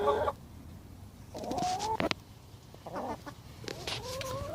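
Allotment hens being offered bird seed, clucking and squawking close by in short, scattered calls over a faint background.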